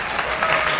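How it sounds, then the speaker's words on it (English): A studio audience applauds guest Marija Spasikova on a real estate talk show, a short and loud burst of clapping that stays even from start to finish. "Ladies and gentlemen, give a round of applause for our big guest today."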